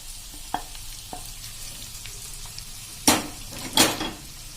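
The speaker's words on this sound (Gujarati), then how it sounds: "આ રીતે આપણે મીડિયમ ફ્લેમ ઉપર 3 થી 4 મિનિટ આ રીતે ચલાવતા ચલાવતા આપણે આ કાંદા અને આ બધી સબ્જી" Marinated onions, tomatoes and chillies are stirred in a pan over a medium flame, with a few soft clicks early on and then two loud scraping, sizzling sweeps of the spoon near the end.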